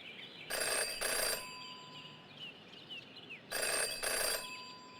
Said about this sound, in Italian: Che si è messo a suonare il telefono.